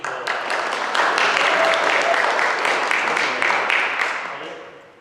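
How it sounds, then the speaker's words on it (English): Audience applause greeting a young woman volunteer at a magic show, a dense, steady burst of many hands clapping close by that swells for about four seconds, then thins and fades out at the end. "Round of applause, please"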